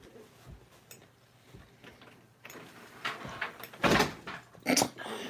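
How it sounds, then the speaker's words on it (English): A door is pushed shut indoors close by: a few scuffs and then a couple of distinct thumps and latch clicks near the end, over a quiet room with faint voice sounds. "Let me close the door."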